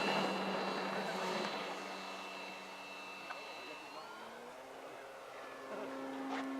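A Senior Telemaster model airplane's electric motor runs at full power in flight, giving a steady, fairly distant whine that shifts pitch slightly as the plane passes, with faint talk in the background.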